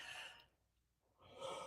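A person yawning during a morning warm-up exercise session: a breathy intake followed by a pause, then a drawn-out, airy exhale, close and fairly soft, with no talking.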